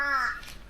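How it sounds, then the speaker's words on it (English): A single harsh, crow-like caw rings out at an outback waterhole near Halls Creek, moderately close, then trails off into quiet morning background. "Plenty of action on the waterhole this morning. It's prolific bird life here."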